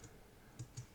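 A few quiet, soft keystrokes tap on a computer keyboard, spaced irregularly, with the last two close together.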